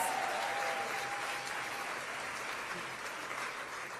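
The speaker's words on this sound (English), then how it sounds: "Let's give them all a big round of applause." Steady, dense applause from a large gala audience in a hall, with a faint voice briefly audible near the start as the clapping fades slightly.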